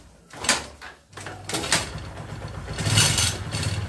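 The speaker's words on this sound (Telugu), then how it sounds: "మనకైతే బండి అయితే స్టార్ట్ అయిపోయింది" A Honda motorcycle with a freshly fitted engine is kick-started. A few sharp kick strokes are followed by the engine catching and settling into a steady, close-up idle.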